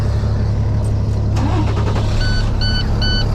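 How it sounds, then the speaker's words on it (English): A diesel truck engine, one fitted with a diesel particulate filter, turns over and settles into a steady low idle rumble, with a few short electronic beeps chiming over it near the end. "now we're going to start the truck"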